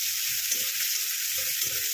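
Onion fries in oil in a pan, a bright, steady hiss of sizzling up close with faint scraping and stirring movements underneath, no voices present.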